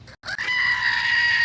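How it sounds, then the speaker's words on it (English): A screaming goat sound effect fires at the press of a button during a home cooking session of New York striploin steaks: a short click, then one loud, sustained, shrill bleating scream that holds steady to the end. "Can you guys hear the screaming goat when we press the button for it?"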